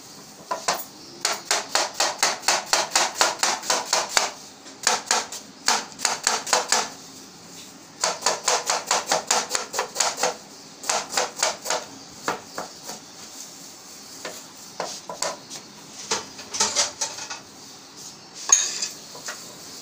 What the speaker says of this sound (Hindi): ये बंद गोभी हम काट रहे हैं स्प्रिंग रोल के लिए फाइन जूलियन कटेगी